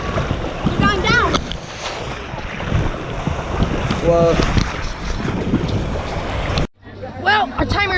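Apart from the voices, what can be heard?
waves in wave pool at Typhoon Lagoon water park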